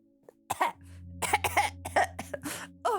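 A person coughs in a burst of several rough hacking coughs at close range, with a brief throat-clearing rasp before them, against an otherwise quiet room.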